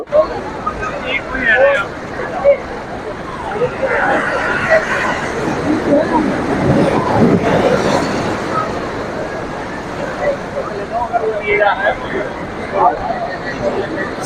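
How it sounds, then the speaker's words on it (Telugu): Sea waves wash onto R.K. Beach in Visakhapatnam as a steady broadband roar with wind buffeting the microphone, while a crowd of beachgoers playing in the surf chatters and voices talk nearby throughout. "సముద్ర కెరటాలని"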